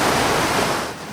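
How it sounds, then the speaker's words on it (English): Ocean waves break on the shore of a Hong Kong island as a steady, loud roar of surf with wind buffeting the phone microphone, then ease off slightly toward the end. "trying to capture waves with a phone"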